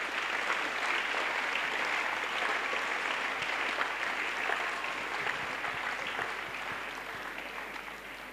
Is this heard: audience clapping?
yes